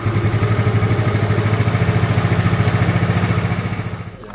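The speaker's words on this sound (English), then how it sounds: "And then run your bike for about 1 minute." A Genuine Buddy 125 scooter engine runs at a steady idle after an oil change, loud and close with a fast, even putter, then it tails off near the end.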